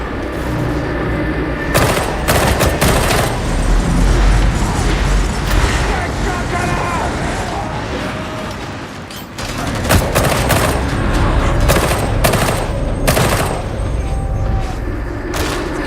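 An enemy gunner in Warhammer 40K Darktide fires repeated heavy automatic bursts, with booming impacts and mechanical clatter under steady game noise and voices.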